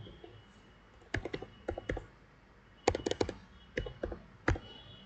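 Code being typed on a computer keyboard during a Selenium programming lesson: irregular bursts of crisp, close key clicks with short pauses between groups, and no voice over them.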